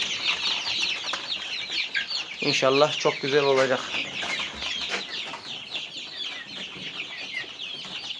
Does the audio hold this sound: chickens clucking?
yes